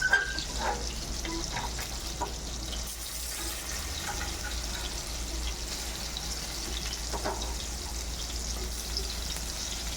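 Squid vada frying in oil in a pan at home, a steady close sizzle and bubbling running evenly throughout with a faint watery hiss and no talking.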